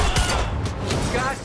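Gunfire from the video game Quantum Break, a dense fusillade of shots cracking in quick succession, loud and close, with voices talking over the shooting.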